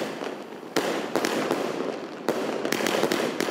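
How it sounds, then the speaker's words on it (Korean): Fireworks burst in a rapid series of loud cracks and booms, two big blasts leading clusters of crackling pops, at a New Year celebration in Peru. "폭죽을 연달아 터뜨리는데"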